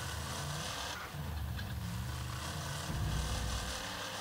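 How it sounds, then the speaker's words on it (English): In the Monster Truck Championship video game, a damaged monster truck engine runs with a rough, continuous drone that stays loud and steady, dipping briefly before carrying on. "From the sound of the engine, you can tell it's definitely damaged."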